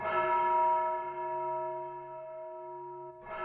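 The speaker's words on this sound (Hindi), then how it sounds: "12 बजे चर्च की घंटी बजती है।" A single large church bell rings out at twelve o'clock and hums as it slowly fades, then a new strike sounds just before the end, close and resonant.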